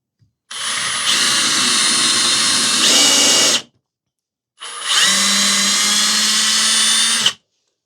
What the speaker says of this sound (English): I drill one hole, get one screw in just to hold the piece in place.